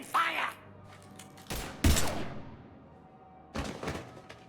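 Gunfire in the video game Mass Effect 3: a few separate bursts of shots spaced a second or two apart, sharp and punchy. A brief voice comes just before the first burst.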